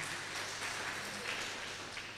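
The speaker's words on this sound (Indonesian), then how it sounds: "beli tepuk tangan buat Ibu Ana." Applause at a church gathering, steady dense clapping from a crowd, moderately loud and continuous for its short length.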